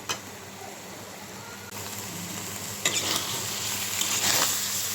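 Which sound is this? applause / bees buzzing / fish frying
fish frying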